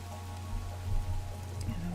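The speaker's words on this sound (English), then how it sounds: "Oh, that's why it's raining. It's actually raining." Steady rain falls in the Minecraft video game, a soft continuous patter under a low hum, with no voices.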